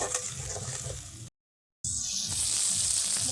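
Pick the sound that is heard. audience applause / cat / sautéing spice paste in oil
sautéing spice paste in oil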